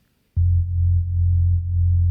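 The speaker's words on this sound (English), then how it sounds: "So this is the bass with and without the bass translator. Sounds like a sine wave." A steady, pure low bass tone like a sine wave from a music track's bass without harmonic processing, starting abruptly and holding smoothly with slight pulsing in level, no other sounds.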